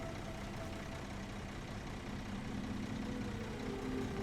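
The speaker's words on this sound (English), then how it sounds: "The sound of that engine as it's changing gear." A heavy truck engine in the video game SnowRunner rumbles steadily at close range, its pitch shifting slightly as it works through a gear change, with no talking.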